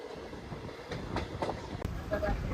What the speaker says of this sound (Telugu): ట్రైన్ స్టేషన్కి అయితే వచ్చేసింది